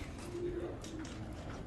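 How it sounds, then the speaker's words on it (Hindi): A pigeon coos softly in a single low, rounded call, faint and close against a hissy background, from a hobbyist's breeding pigeon of the Laida breed. "ये कबूतर है जी"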